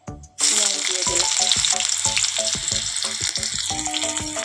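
Onion hitting hot oil just after whole cumin tempering, a loud sizzle bursting in after a short quiet start, then steady frying crackle with repeated stirring clinks and scrapes close by.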